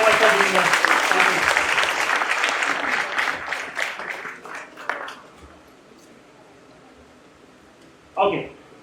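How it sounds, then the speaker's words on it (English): Applause for the chief guest at a school quiz semifinal, many hands clapping strongly at first, then thinning out and fading to quiet, followed by a short burst of speech. "Can we have a round of applause for our chief guest?"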